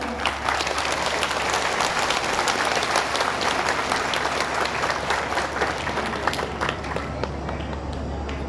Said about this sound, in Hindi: एक बार आप लोग धन्यवाद ज्ञापित करेंगे ताली बजाकर सभी लोग